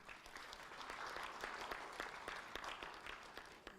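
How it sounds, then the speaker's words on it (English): An audience in a conference hall applauds the illustrious speakers at a 2017 event, a steady wash of many hands clapping at moderate volume for several seconds, with individual claps popping through. "a good round of applause for the illustrious speakers"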